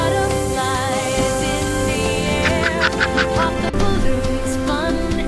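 A cartoon duck quacks briefly over bright, loud children's nursery-rhyme music that continues throughout.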